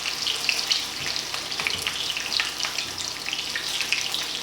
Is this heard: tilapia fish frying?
yes